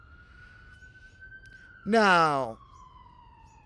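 An emergency vehicle siren wails briefly in a loud, rising-and-falling burst that cuts through a steady tone, with a short spoken word at the start.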